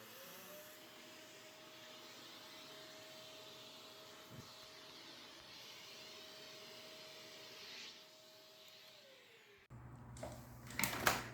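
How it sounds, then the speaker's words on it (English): A Shark canister vacuum cleaner being checked for lost suction runs with a steady droning whine for about ten seconds, then shifts to a rougher, louder rush of air at the end; no talking. "the vacuum cleaner is working correctly"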